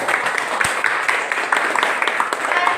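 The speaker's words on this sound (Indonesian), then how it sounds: "tepuk tangan" Students in a classroom applaud a group's presentation, lively clapping from a modest group with crisp individual claps, close and fairly loud, with some murmuring mixed in.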